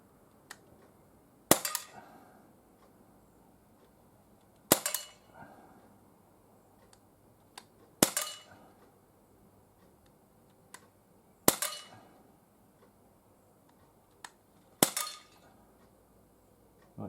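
Five sharp, loud pistol shots from a PPQ M2 on an outdoor range, spaced about three seconds apart, each followed by a brief ringing clang of a steel target, with fainter clicks in between.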